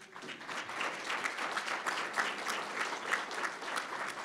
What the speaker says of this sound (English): So please give them all another round of applause.